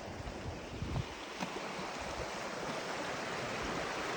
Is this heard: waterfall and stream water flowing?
yes